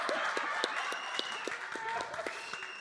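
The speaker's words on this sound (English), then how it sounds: "Give him a clap." Scattered audience clapping at a political speech, with sharp individual claps over a steady murmur of crowd voices, fairly close and continuous through the moment.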